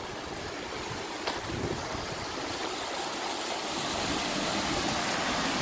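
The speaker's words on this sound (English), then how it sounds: "there's the river that's been raging" A river rushes strongly through the Whitewater Preserve, a steady dense roar of fast-flowing water, fairly loud and constant, with no talking.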